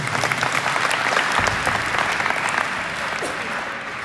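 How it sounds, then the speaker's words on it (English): Applause from a crowd at the opening ceremony of the Zone 6 Club Championship 2025, a loud, dense, steady clapping that fills the room and fades slightly toward the end. "Can you give them a very big round of applause?"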